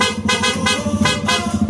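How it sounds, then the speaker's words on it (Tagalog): Loud, steady horn blast from a Yamaha XSR 155 motorcycle, held for nearly two seconds with slight wavering pulses, close and dominant with no talking. "Loud horn."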